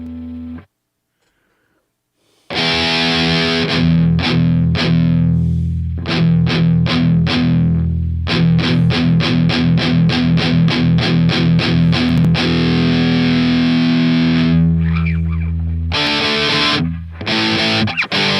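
Electric guitar played through distortion and effects pedals, a loud, fuzzy run of rapid chopped and strummed notes after a brief silence, steady and close with no talking.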